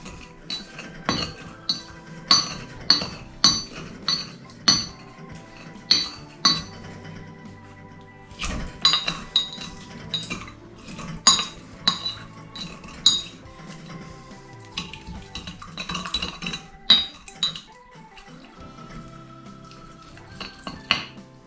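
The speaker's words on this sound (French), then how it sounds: "avec un pilon, on vient libérer notre jus de citron" A pestle knocks and grinds limes in a glass for a caipirinha, giving a run of sharp clinking, thudding strikes in an uneven rhythm, close and fairly loud, with no talking.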